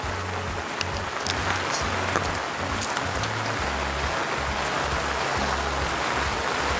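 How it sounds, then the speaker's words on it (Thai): Steady rain falls outdoors on a rosewood tree plantation in Lamphun, a constant dense hiss with a low rumbling undertone and no talk. "วันนี้ฝนตกนะครับ"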